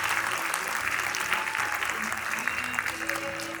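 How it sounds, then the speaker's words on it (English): Parents in the audience at a school prize event clap for child performers: dense, continuous applause throughout, with faint voices and tonal sounds underneath. "Please clap for them."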